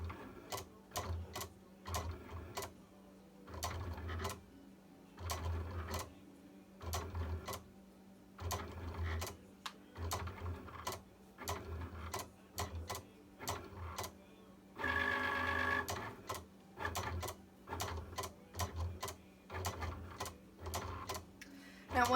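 An electronic craft cutting machine drawing and then cutting paper shapes on an 8.5 by 11 inch sheet, giving quiet, evenly repeating mechanical whirs and clicks with a brief louder motor run partway through.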